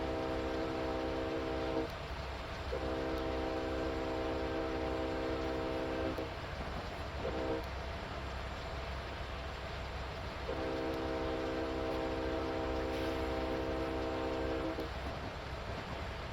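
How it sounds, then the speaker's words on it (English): A diesel locomotive climbing Sherman Hill sounds its horn for a grade crossing in long and short blasts over the steady rumble and rolling of the train. "There's a whistle."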